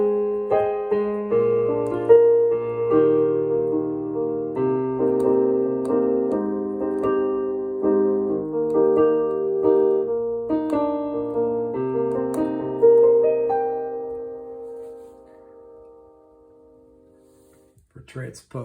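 A Numa Compact 2 digital piano plays a melody with chords, transposed a step and a half higher, its notes ringing clearly and steadily before fading out near the end.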